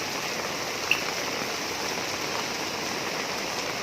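Heavy rain pours down steadily in a dense, even hiss that fills the whole stretch without pause, a constant wash of drops with one tiny sharp tick partway through and no voices.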